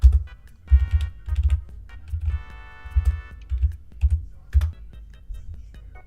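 Fast bursts of keystrokes on a computer keyboard during a livestream, clustered in uneven runs with short pauses between them, close and fairly clear with no voices.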